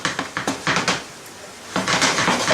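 Penne pasta is stirred into sauce in a pan with artichoke and cheese, giving a run of close scraping and clinking strokes of a utensil against the pan, a short pause, then more stirring.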